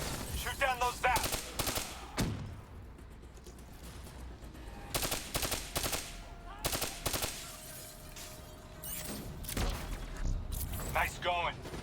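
Call of Duty: Black Ops III combat with bursts of rapid automatic gunfire shooting down zaps, several loud clustered volleys separated by short pauses, mixed with mechanical clicks and occasional electronic chirps and a faint game voice.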